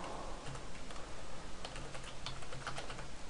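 Steady, fast typing of code on a computer keyboard, a dense stream of close key clicks over a constant background hiss, with no talk.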